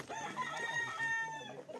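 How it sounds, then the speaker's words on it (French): Fighting roosters crowing at a breeding farm in Mexico, one or more nearby birds giving drawn-out crows with clucking underneath, fairly loud. "je suis tombé sur cet élevage de coqs qui a priori sont des coqs de combat"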